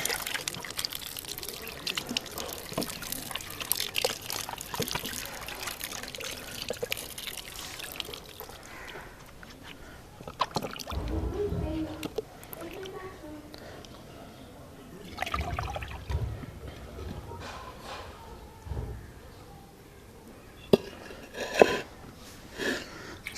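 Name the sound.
washing apples in water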